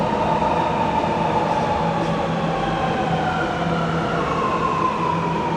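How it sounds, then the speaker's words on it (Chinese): A Shanghai metro train arrives at a station with a loud, sustained rumble and rising and falling whine of motors and wheels, an unbroken rolling roar filling the platform. "地铁来了，广播响了，"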